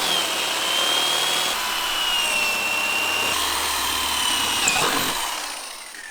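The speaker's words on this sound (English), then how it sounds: "We're gonna mark the drill spots, drill the 3 holes out" A power drill whines continuously at close range, its pitch shifting slightly as it bores holes through a carbon fiber body panel on a McLaren 720S, then trailing off at the end.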